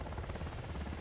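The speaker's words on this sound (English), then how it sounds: "Helicopter." A steady, dense rotor drone of a helicopter, loud and continuous with no pauses.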